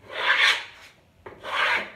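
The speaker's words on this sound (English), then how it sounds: "I have scraped off a lot of this Boho blue while I'm adding the pink" A palette knife scrapes wet acrylic paint across canvas in two distinct rasping strokes, close and fairly loud, with no talking.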